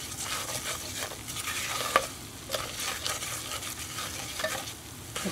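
Butter and flour roux cooking in a pan, a soft steady sizzle with occasional stirring scrapes and a small clink, close and moderately quiet.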